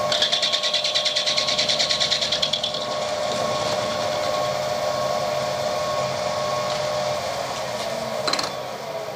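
Lathe or similar metalworking machine running steadily while turning a brass hex part, a continuous mechanical whir with a higher whine that eases after a couple of seconds and a brief sharp tick near the end.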